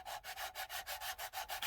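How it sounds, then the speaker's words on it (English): Sanding a plastic part for a 1/72 scale EC-135C model aircraft, a close, dry rubbing rasp in quick regular back-and-forth strokes, about eight passes in under two seconds, with no voices. "I'm going to have to do a little bit of sanding."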